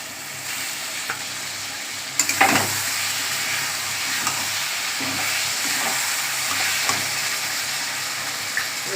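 Prawn, potato and pumpkin curry sizzling in ghee, a steady close frying hiss with occasional stirring scrapes and pops throughout.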